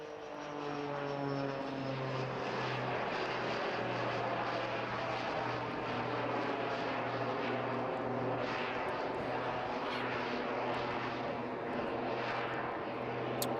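A light propeller aircraft performs aerobatics at the Bournemouth Air Festival, its engine droning steadily and loudly with a shifting pitch as it rolls overhead, with no other sound.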